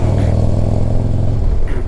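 A Harley-Davidson CVO motorcycle with 47,000 miles runs nearby, its engine giving a loud, deep, steady rumble with a rhythmic low-end throb.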